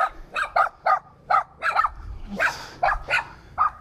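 Two small yappy dogs bark in a rapid series of sharp, close yaps in a Vietnamese village, about a dozen barks in under four seconds with a brief rustle in the middle.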